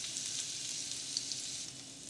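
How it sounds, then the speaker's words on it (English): Spiced eggs fry in a pan with a steady, soft hiss and crackle, a continuous even sizzle with occasional faint pops and no voices. "I'm going to fry them just for about a minute or so"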